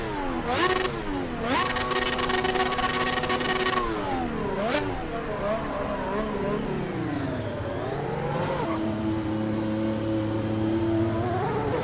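Ferrari SF-25 Formula 1 car in the Assetto Corsa EVO racing game at Fuji: a high, whining engine that revs up and down through gear shifts, loud and continuous throughout.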